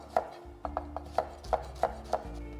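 A knife roughly chopping garlic on a cutting board, about eight quick crisp strikes in an uneven rhythm, close and clear with no talk.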